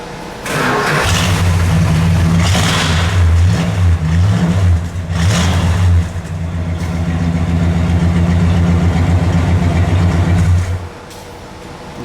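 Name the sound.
1967 Plymouth Satellite engine idling, dual exhaust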